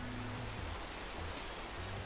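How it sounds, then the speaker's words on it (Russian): Minecraft rain falls in the game, a soft steady hiss of drops that runs evenly throughout with no other sounds. "О, дождь пошел."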